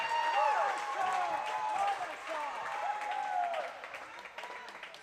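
Spectators cheer and clap at a girls' volleyball match between the Mountain View Spartans and the Gunn Titans, a steady indoor crowd noise that fades slightly as a commentator talks over it.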